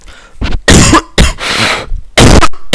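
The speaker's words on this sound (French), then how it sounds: "Désolé pour la toux." A man coughs hard several times in close, loud bursts, with short gaps between the harsh barks.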